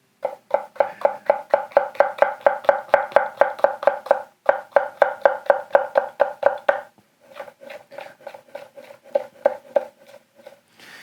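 A Hatsukokoro Hikari kitchen knife slicing through a pepper on a cutting board, giving rapid, steady close-up chopping taps that run in long even bursts with a brief pause.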